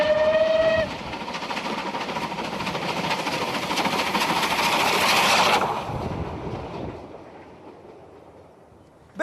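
A railway locomotive opens with a short whistle blast, then the steady rolling rumble and clatter of a passing train builds and fades away into quiet over several seconds.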